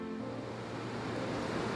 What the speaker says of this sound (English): And then, the Thamsa River appears.